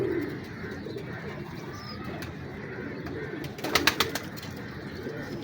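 Chini pigeons coo softly at a pigeon show, a low murmuring burble close by, with a brief louder flutter of sound near the end.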